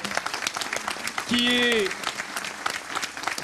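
An audience applauds a French master cheesemaker at a presentation in Mayenne, the clapping steady and dense while a voice talks over it and a brief tonal sound rises midway.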